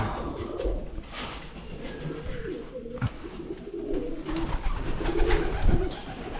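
A bird coos in low, repeated bursts close by, with faint rustling and scraping around it.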